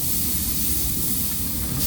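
Water boils on a stove inside a tiny camper in cold weather, a loud steady hiss and roiling rush filling the space without pause.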